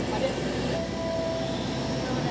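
Steady rumbling ride inside a compartment of the Indonesian Bima night train, a continuous low roar with a faint thin tonal whine, loud and unbroken throughout.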